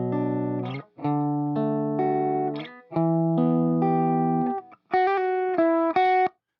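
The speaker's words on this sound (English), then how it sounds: "Let's hear it without this delay." A clean electric guitar with no delay plays a short phrase of sustained notes and chords, loud and close, each note cut off sharply rather than trailing into echoes.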